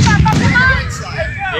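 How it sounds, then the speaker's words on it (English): Fireworks bursting outdoors at a July celebration, a dense run of booming, crackling explosions filling the air while people chatter and call out nearby. "Jeremiah, look, fireworks!"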